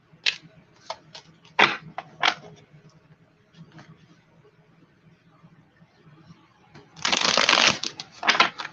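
Tarot cards being shuffled in quick, crisp riffles, with scattered taps and flicks before a longer burst of shuffling near the end, close and fairly quiet.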